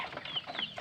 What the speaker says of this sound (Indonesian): ini pagi-pagi nih lagi ngasih makan ayam ya, lumayan ada 50 ekoran lah